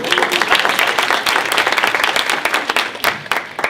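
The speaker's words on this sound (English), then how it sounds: "That's an applause line." Audience applause at a conference launch event, dense steady clapping from a crowd throughout, fairly loud and continuous with no pause.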